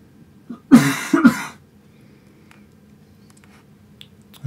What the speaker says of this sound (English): No, I'm coughing.